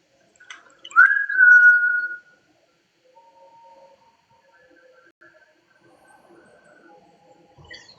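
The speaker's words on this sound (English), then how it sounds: "If I whistle, can you whistle back?" A single clear human whistle, sliding up then holding steady for about a second, followed by faint distant tonal sounds and near silence.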